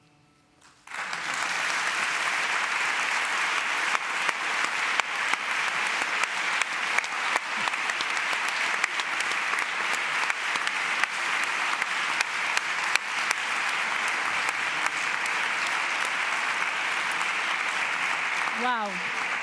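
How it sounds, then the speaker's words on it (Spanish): Loud, dense audience applause fills a panel session at an annual gathering in Madrid, rising suddenly and holding steady for most of the stretch. "Un fuerte aplauso para Elena y para Manuel, por favor."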